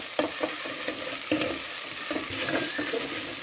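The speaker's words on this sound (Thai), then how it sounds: "เราก็จะใส่เครื่องแกงของเขาเนาะ ลงไปพัดกับน้ำมันเลยนะเจ้าหอมหอมเนาะ" Curry paste stir-fries in hot oil for a Thai beef curry with mustard greens, a steady close sizzle with scraping stirs throughout.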